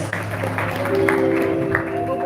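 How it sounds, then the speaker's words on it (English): Audience applause for the caterers at a cricket awards dinner and music show, a steady wash of clapping filling the room for a couple of seconds, with music or voices beneath. "A big round of applause for them"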